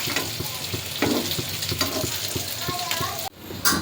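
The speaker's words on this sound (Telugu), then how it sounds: "ఎంత మంచిగా ఫ్రై చేసుకుంటే అంత బాగుంటుంది." Fish pieces frying in a pan for a Rayalaseema fish curry, a steady crackling sizzle with occasional clinks and stirring sounds, close and fairly loud.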